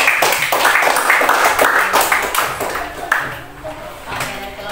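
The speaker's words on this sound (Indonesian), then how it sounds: "Oke, tepuk tangan." A classroom of students clapping hands after a group presentation, a burst of rapid overlapping claps that thins out and fades over a few seconds, with voices mixed in.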